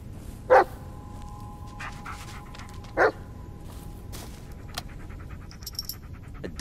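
Bullet the dog from the video game Blair Witch gives two sharp, loud barks a few seconds apart, with soft panting and small whimpers between them over a quiet ambient background.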